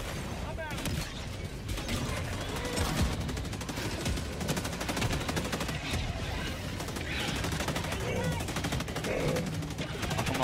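Gunfire in Helldivers on a difficulty 9 Helldive mission: dense, loud and nearly continuous automatic fire with rapid overlapping bursts and mechanical clatter, filling the whole stretch.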